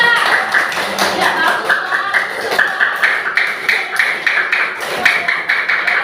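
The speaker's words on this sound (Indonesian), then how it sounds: "Ya, beri tepuk tangan untuk kelompok 3." Classroom students clap for a group after its presentation, steady overlapping claps close by, while a teacher's voice speaks briefly over them.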